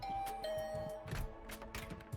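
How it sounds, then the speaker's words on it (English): A doorbell rings in the video game The Hundred Line: Last Defense Academy, a clear two-tone ding-dong chime sounding repeatedly over a soft game background. "I rang the doorbell and waited."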